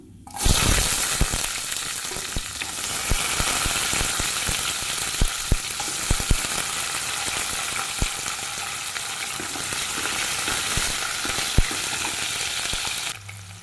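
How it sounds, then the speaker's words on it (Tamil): Shallots and urad dal fry in hot oil for a Tamil chutney served with idli and dosa, giving a loud, steady sizzle with frequent sharp crackles and pops and occasional stirring throughout. "இப்போ சின்ன வெங்காயம் சேர்த்துக்கலாம்"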